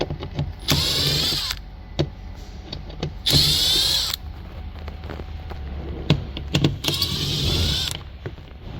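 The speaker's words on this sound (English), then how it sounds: "now the next step is remove the bottom two 7mm bolt on each side." A power driver whirs in three separate bursts, backing 7mm bolts out of a Chevy door panel, with quieter handling noises and clicks in between and no talking.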